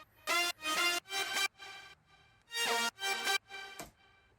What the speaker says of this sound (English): I used 2 horns and a synth